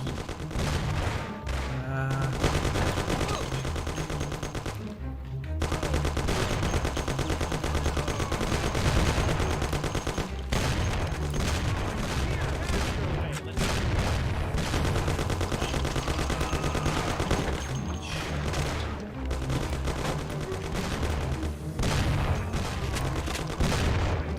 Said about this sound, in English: Pretty sure shotgun doesn't have the range.